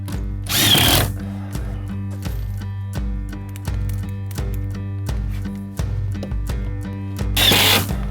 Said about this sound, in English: When you do it with an impact wrench, it's really, really quick. Impact driver, rather.